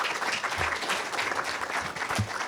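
Thank-you applause from an audience at a writing session, a dense steady wash of many hands clapping at close range throughout.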